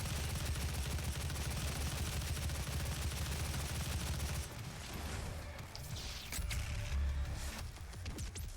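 Assault rifle gunfire in the game Doom, heard as a loud, steady stream of rapid shots that breaks into shorter bursts partway through, with no talk over it.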